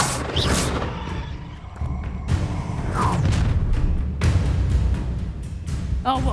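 Incendio fire spell blasts during a fight in Hogwarts Legacy, with several booming impacts and bursts spread across the span amid dense battle noise, and brief voices cutting through.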